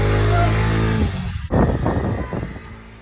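Small engine on a ride-on vehicle held at a steady drone, then revving up sharply as the throttle is twisted, loud and close.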